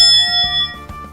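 A small bell rung as a celebratory ding, its clear sustained ringing tone decaying steadily over about a second, with a second lighter strike near the end.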